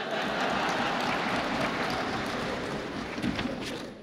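A crowd claps steadily at a national legislators' conference hall, a dense patter of applause that stays at an even level throughout, with no voices above it.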